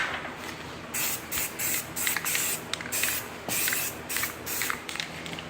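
Rust-Oleum NeverWet coating is sprayed from an aerosol can onto the mud-catching creases of a Polaris ATV, in a series of close hissing bursts of about half a second to a second each, separated by short pauses.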